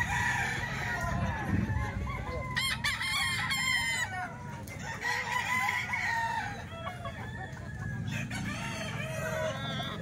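Chickens and roosters at a Saturday poultry market in Baliwag, with several roosters crowing in repeated bursts over a busy background of clucking and fowl noise, some calls close and loud, others farther off, with faint voices in the crowd.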